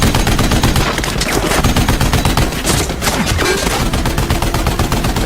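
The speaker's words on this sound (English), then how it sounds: "Atami uses the soldier's body to shield himself from the gunfire." Heavy gunfire from a war film, dense rapid bursts of shots fired without a break, loud and close throughout.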